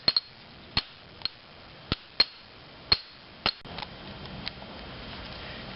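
A hammer taps an impact screwdriver fitted with a big bit against a bolt on the starter solenoid of a 5.4L Ford F-150, giving about eight sharp, close metallic knocks spaced out irregularly, with no talk.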